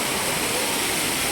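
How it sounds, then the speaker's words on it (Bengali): Snowmelt water rushes down through the rock garden in the Darjeeling hills, a steady, dense roar that stays near and loud throughout with no breaks. "বরফ গলা পানি আর কি, উপরে বরফ গলে ওই পানি আসতেছে।"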